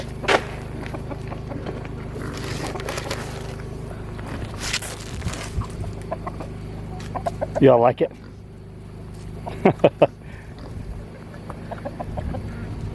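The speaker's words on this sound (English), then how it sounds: "even the new chickens are coming over" Chickens cluck and squawk close by in short bursts, with a person speaking briefly and scattered clatter in the background.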